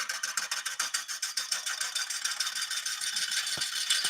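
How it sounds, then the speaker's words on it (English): A wood lathe turns a yew blank and speeds up, giving a fast, even rattling whir with a quick rhythmic pulse that smooths out as the revs climb, with no voices over it. "start turning the lathe speed up"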